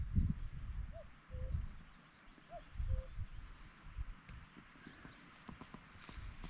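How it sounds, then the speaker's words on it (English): A cuckoo calls twice in the distance, each a soft falling two-note call, over a low rumbling outdoor background. "You hear the cuckoo?"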